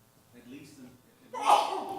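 A single sharp sneeze bursts out during a building committee meeting, fairly close and loud after a stretch of quiet murmuring room sound.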